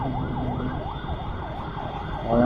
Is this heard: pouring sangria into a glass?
no